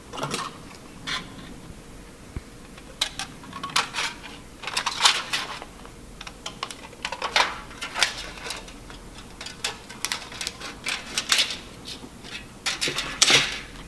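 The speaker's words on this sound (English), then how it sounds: "now I'm going to go ahead and cut this out with my scissors" Scissors snip through paper in irregular bursts of short crisp cuts, close up, with quiet pauses between them.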